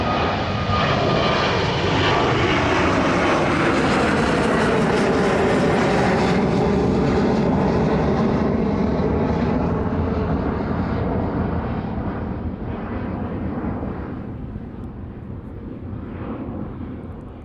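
An airplane climbs out of East Midlands Airport in the evening, its engine roar loud and close at first, then sweeping past and slowly fading as it turns away south.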